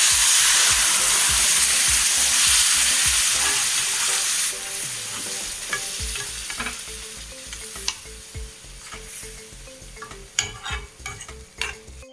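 Fish pickle masala sizzling loudly in hot oil as vinegar is poured in, a steady frying hiss with rhythmic stirring scrapes that turns sharper and crackly toward the end.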